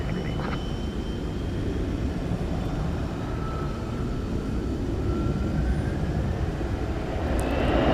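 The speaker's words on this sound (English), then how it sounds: "it looks like it's going to take off from 18 left here on the west side of the airport" Jet airliner taking off at night from runway 18 left on the west side of DFW Airport, bound for El Paso: a steady, heavy roar from a distance that builds slightly toward the end, with no talking.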